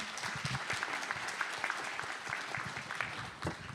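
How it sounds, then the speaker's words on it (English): An audience claps steadily for a minister and panel at an international ocean forum in Taiwan. The dense applause holds at an even level throughout with no break. "Let's give a round of applause for the Minister and the whole panel."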